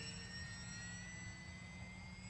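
An XK A600 RC plane flies overhead with a thin, steady high-pitched electric whine over low wind rumble, faint and distant for a couple of seconds.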